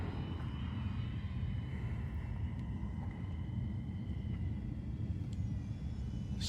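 Volantex RC F4U Corsair 500mm model airplane flying a slow pass with landing gear down: a steady, whining electric motor and propeller drone holds at an even level throughout, with no talking.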